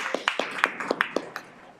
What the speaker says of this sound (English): so clap it up for the people that are here